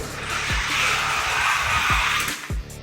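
Hot Wheels toy trucks, including a VW drag truck, speed down a race track in a heavyweight bracket event, giving a steady high whirring rush of wheels with sharp clacks at the start and finish.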